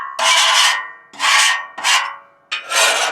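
A scraper rasps across a Traeger Irontop griddle in four loud, harsh strokes, each long gritty scrape separated by brief pauses, with no voices.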